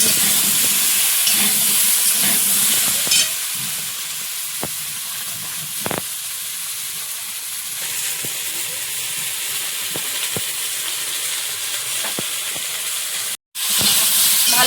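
Potatoes and vegetables fry in a pan with a loud, constant sizzle and hiss, punctuated by occasional clicks and scrapes of stirring, then a brief sharp break near the end.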